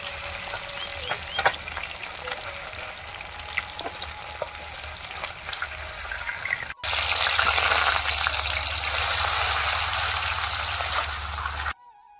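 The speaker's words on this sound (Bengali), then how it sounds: "সব মাছ ভাজা হয়ে গেছে, তুলে নিচ্ছি।" Fish frying in hot mustard-country oil in a wok over a stove, a loud, close, continuous sizzle and crackle that swells louder halfway through and stays steady before cutting off.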